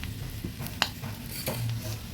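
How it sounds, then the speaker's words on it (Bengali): Chopped onion goes into hot oil in a kadai: a soft, continuous sizzle with a bright metallic clink near the middle and light stirring scrapes, heard close up with no talking. "এবার কড়াইতে তেল গরম করে পেঁয়াজটা দিয়ে দেব"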